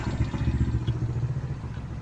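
A stock Honda PCX160 scooter engine with an opened throttle body idles smoothly in a low, steady rumble with light clatter, heard close and unbroken with no talking.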